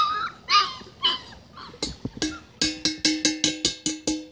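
Puppies outdoors making a run of short, sharp yips and squeaky whimpering cries, first scattered and then quickly repeating in a steady rhythm, close and fairly loud.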